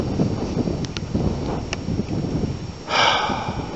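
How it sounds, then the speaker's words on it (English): Wind gusting outdoors at sunset, a steady rumbling rush across the microphone that swells into a stronger blast near the end, loud and close, with no talking. "Hear the wind?"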